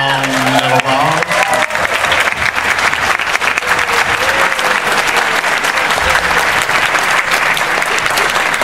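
A convention crowd at a Transformers panel gives a loud, sustained round of applause, with whoops and a voice briefly audible over the clapping.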